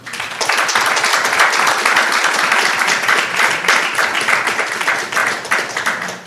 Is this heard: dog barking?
no